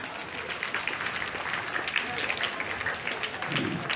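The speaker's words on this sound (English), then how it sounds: "Let's clap for all your teachers." Students clapping for their teachers at a Teachers' Day school morning assembly, a sustained crowded patter of many hands, steady and moderately loud, with faint voices underneath.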